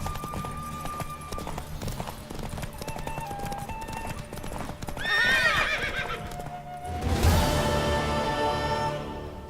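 In The Witcher 3 video game, a horse gallops in a race with rapid, steady clip-clop hoofbeats, a whinny partway through, and game music and ambience running underneath.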